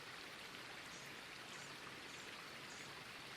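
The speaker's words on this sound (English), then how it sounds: "A glassy and calm stretch of the river only needs to travel around a bend to roar itself into rapids." A river in the Grand Canyon flows steadily, a dense, even rush of water that holds constant without pause.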